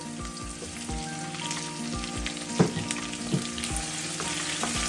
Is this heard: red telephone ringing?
no